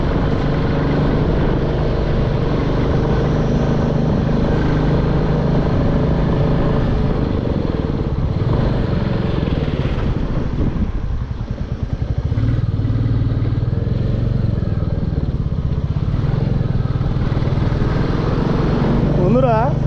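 Riding along the NH 55 hill highway toward Lepchajagat brings a loud, steady engine roar and road rumble that stays constant throughout, with a voice faintly heard beneath it.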